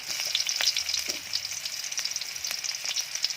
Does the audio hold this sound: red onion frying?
yes